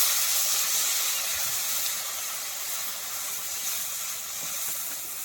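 Water poured into a hot pan of fried potatoes gives a soft, steady steamy hiss that fades slightly over a few seconds, fairly quiet and without speech.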